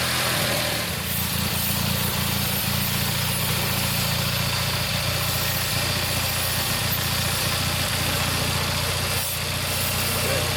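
The Kohler engine on a Simplicity Sunstar tractor idles steadily and evenly, a constant close drone with no change in pace throughout.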